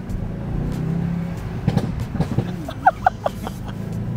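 A Mercedes-AMG S63 in Sport Plus mode accelerates with a steady, loud engine drone, and a few sharp crackles or pops rise near the end.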